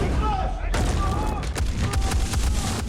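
Large pyrotechnic charges rigged in three trees on a war-film set fire to mimic .50 caliber hits, a sudden loud blast followed by a rapid string of sharp cracking bursts under a raised voice.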